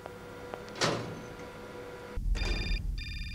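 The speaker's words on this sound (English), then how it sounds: "Oh, phone call." A telephone rings in the PC adventure game Syberia, with a short electronic ring tone starting partway through. The burst is repeated and bright, and it plays alone at moderate loudness after a quieter opening.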